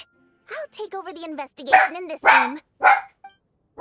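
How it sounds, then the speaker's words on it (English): A dog in Genshin Impact gives a few sharp, close barks, woven between and after a character's spoken lines. "That's my dog."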